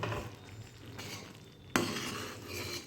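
A spoon stirs thickening raw green mango pulp for amshotto in a pan, making soft scraping and faint bubbling at low volume, with a sudden knock of utensil against pan near the middle and no talking.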